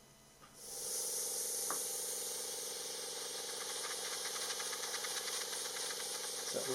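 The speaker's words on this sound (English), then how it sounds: "My airbrush provided the engine jets pushing away the dust." An airbrush blowing air to push dust away in a garage, starting with a sudden hissing rush that stays steady and loud, with a faint rattling underneath and a couple of brief knocks.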